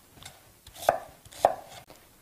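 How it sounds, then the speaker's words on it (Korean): Knife roughly chopping pear on a cutting board, two distinct heavy chops about half a second apart, close and fairly quiet, with no talking. "듬성듬성 썰어줄게요"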